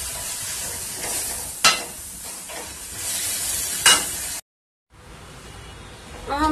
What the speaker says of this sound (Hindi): मिक्स करेंगे।